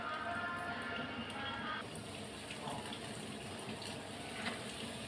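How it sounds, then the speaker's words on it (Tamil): Water pours steadily from a tap into ground paste for paruppu rasam, a continuous close, soft splashing stream lasting several seconds, with a voice speaking over it. "இதில் கொஞ்சம் தண்ணி ஆட் பண்ணி அரைச்சிருவோம்"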